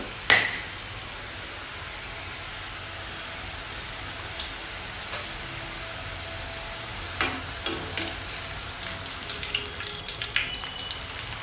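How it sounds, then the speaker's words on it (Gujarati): Besan sev fries in hot oil with a continuous soft sizzle and bubbling. Occasional sharper clicks and taps of a utensil punctuate the sound, which stays even and close throughout without speech. "તેલ સરસ ગરમ થઈ ગયું છે હવે એની અંદર આપણે સેવને પાડી લઈશું"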